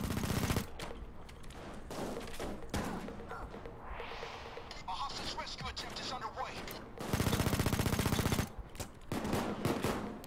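Sustained automatic gunfire in the video game Payday 2: loud, dense bursts of rapid shots in a heavy firefight, with brief lulls before the shooting surges again near the end.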